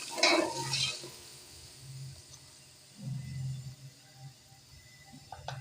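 Tomato and ginger paste with lemon juice frying with onions in a pot for mixed daal, a soft low sizzle with a few spoon stirs and scrapes, fairly quiet and close, no talking.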